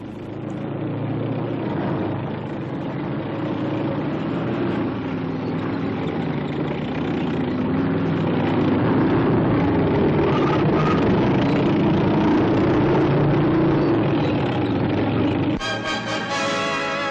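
A modified Sherman tank with a 76mm gun drives with a loud, rough engine roar that swells and rumbles steadily, then cuts abruptly near the end.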